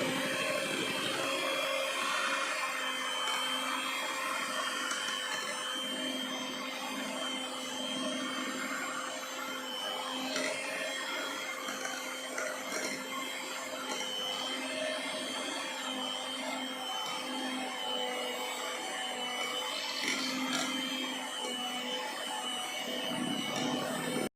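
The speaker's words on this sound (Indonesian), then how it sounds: "Jadi di mixer 10-20 menit ya, sampai kental berjejak seperti kita membuat adonan bolu" An electric mixer whips Mixue-style ice cream batter in a steady, continuous motor whir that holds an even level throughout, close and alone.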